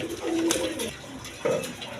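Fieldback and Black Denis pigeons coo in a loft, soft throaty calls repeating in short bursts close by over a low background murmur.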